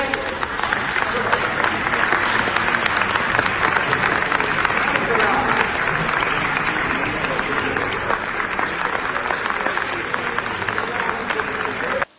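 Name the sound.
applause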